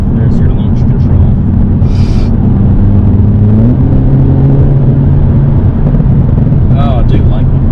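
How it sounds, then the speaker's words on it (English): Hyundai Elantra N on a launch-control start: loud, constant engine rumble and rising exhaust drone that swells and climbs in pitch, with brief crackling pops near the end and voices talking over it. "that pop and gurgle is intoxicating"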